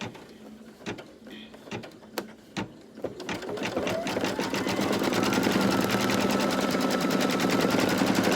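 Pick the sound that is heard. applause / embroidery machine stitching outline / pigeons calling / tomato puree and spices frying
embroidery machine stitching outline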